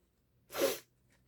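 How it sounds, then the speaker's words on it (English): One short, sharp nasal sniff, close and fairly quiet, lasting about a third of a second in an otherwise silent indoor room. "Sorry, excuse my sniffles."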